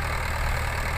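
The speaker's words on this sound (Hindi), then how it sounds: "महिंद्रा 585 DI पावरफुल ट्रैक्टर, बिना ड्राइवर के चल रहा है" A Mahindra 585 DI 50 HP tractor runs with no driver aboard, its diesel engine holding a steady, loud, close throb without pause.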